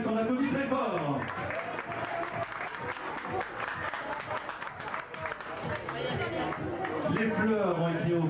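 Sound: audience applause at a hair salon show

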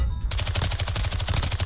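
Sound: MX9 SMG gunfire in video game Call of Duty MW2

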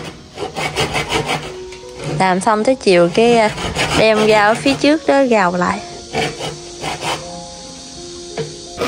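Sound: sawing bamboo

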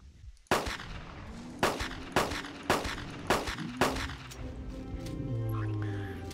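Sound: gunshots at a triceratops, Carnivores Dinosaur Hunter video game

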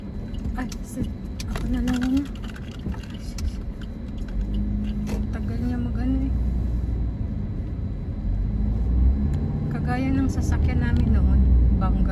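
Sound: road traffic, many cars

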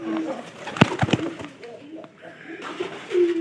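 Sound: pigeons cooing

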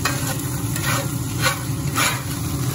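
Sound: onion, garlic and thyme sizzling in pan for gravy

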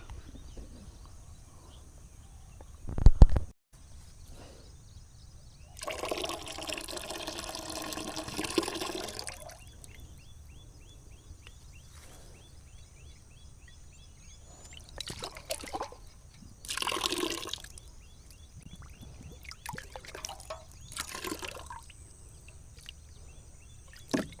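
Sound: mixing plant medicine into water

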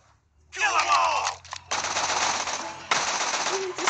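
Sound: gunfire in Tales from the Borderlands video game

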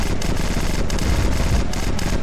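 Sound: machine gun fire in the video game Red Crucible: Firestorm

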